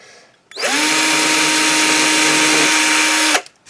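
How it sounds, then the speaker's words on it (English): A small cordless drill bores a tiny pilot hole in wood for a cup hook, a steady loud high whine running for about three seconds and then cutting off abruptly. "it's just drilling a really tiny hole, and all that's going to do is just help us get the little cup hook in"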